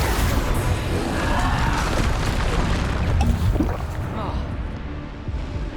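Spell impact bursts from the Depulsor charm in the video game Hogwarts Legacy, heavy booming blasts and whooshes layered with dense combat effects and a voice calling spell names.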